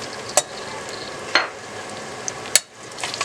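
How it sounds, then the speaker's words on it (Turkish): Chopped ingredients sauté in vegetable oil in a pan for a meat and chickpea maqluba: a steady close sizzle broken by three sharp spoon scrapes as it is stirred. "Bir 5-10 dakika kadar da bu şekilde kavuruyoruz."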